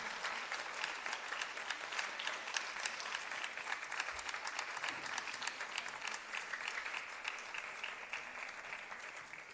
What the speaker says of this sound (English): I think we should give her a huge round of applause once again.